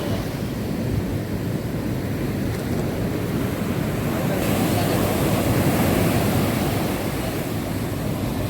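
Morning sea waves on Puri beach in a continuous broad roar of surf, with gusts of wind buffeting the microphone, loud and steady for the whole stretch with no speech.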